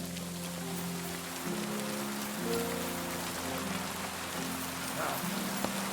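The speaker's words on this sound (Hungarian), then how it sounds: "Egész nap esős idő van ebben a játékban." Continuous rainfall pattering on surfaces in Kingdom Come: Deliverance 2, a dense even hiss layered with soft sustained music tones, close and steady throughout without speech.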